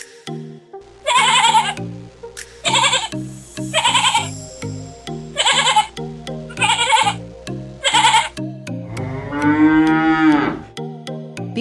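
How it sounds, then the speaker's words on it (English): Farm animals call in turns: a cow's low moo alternates with repeated goat bleats, about six calls in a loud, close sequence, ending in a longer wavering bleat. "C for cow and G for goat."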